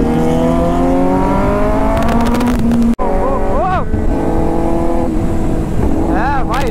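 A Kawasaki ZX-10R sport motorcycle fitted with a new exhaust revs hard and close, engine pitch climbing and falling in repeated blips and sweeping surges, with a loud snap partway through and voices under the engine.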